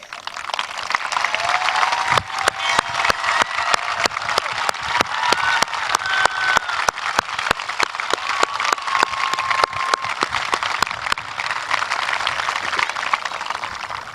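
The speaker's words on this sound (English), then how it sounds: "please join me in a round of applause for the scholarship winners" A graduation crowd at Seneca High School claps for the scholarship winners, steady dense applause with a few sharp nearby claps, filling a large hall at moderate volume without speech.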